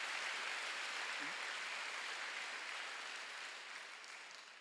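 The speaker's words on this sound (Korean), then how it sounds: "박수 좀 세게 쳐요." A church congregation at a Wednesday worship service claps in a steady, even wash that gradually fades toward the end, heard without talk.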